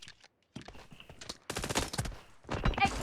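Rapid automatic gunfire bursts from PUBG Mobile in a one-on-one match, coming in dense rattling volleys that grow louder toward the end, heard close through game audio.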